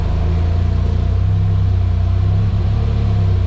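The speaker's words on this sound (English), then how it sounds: "give it a little throttle." Nissan 240SX with a CA18DET engine, just lowered from jackstands, idling with light throttle, a loud steady low rumble with slight rises in revs, close by with no talk.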